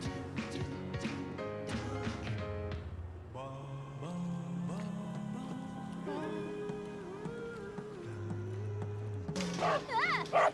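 A dog in Final Fantasy VII Remake Intergrade barks in a run of sharp yips and woofs amid game music and tones, with a player's voice talking over parts.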